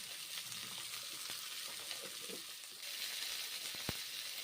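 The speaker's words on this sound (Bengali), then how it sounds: "গরম তেলে ভেজে নিচ্ছি কাঁচা কলা" Raw plantain frying in hot oil with turmeric, producing a quiet, continuous sizzle with faint crackles and a single sharp knock near the end.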